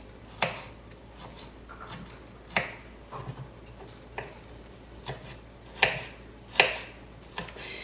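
A knife chops ingredients for tuna salad into small pieces on a cutting board, irregular sharp thunks with scraping between them, close and clear with no talking.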